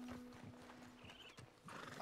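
Rhythmic horse hooves clip-clop steadily nearby in the video game Red Dead Redemption 2, with a brief whinny and jingling tack sounds, no talking.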